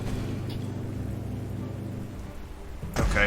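Rain falls in the war strategy game Panzer Corps as a steady, soft hiss over a low droning hum, which cuts off near the end as a brief louder burst of noise takes over.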